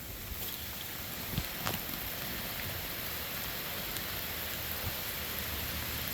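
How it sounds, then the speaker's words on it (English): Steady rain falls outdoors during a dog training session, a dense, even hiss with a few brief knocks and thuds, no talking. "Rain ain't stopping us."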